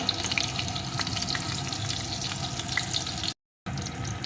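Eggplant sizzles steadily in hot oil after turmeric and salt go in, a dense continuous frying hiss with small stirring scrapes, close and fairly loud, broken by a brief gap near the end.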